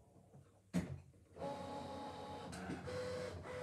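Brother ScanNCut cutting machine burnishing foil with an embossing nib, a quiet motorized whirring that starts after a click and runs steadily as the carriage moves back and forth, close and alone.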